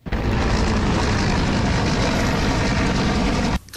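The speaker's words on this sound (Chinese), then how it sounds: "高雄爱河上空直升机在天空中不断盘旋" Army helicopters circle overhead above Kaohsiung's Love River, a loud, continuous roar of rotors and engines that holds steady and close for several seconds before cutting off abruptly near the end.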